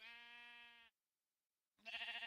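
A sheep in the Minecraft video game bleats twice, two clear, nasal, wavering calls separated by a short silence, each fairly close and of moderate volume.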